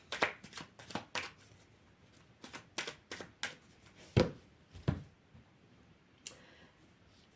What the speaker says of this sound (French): je vais faire un dernier tirage avec... un autre tarot